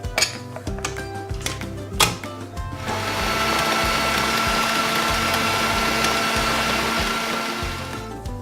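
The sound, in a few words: food processor mixing cookie dough ingredients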